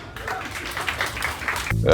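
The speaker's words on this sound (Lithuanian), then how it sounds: "Plojimai draugam!" An audience at a live stage show applauds, with dense, steady clapping and crowd noise that holds for nearly two seconds before cutting off into a brief low tone.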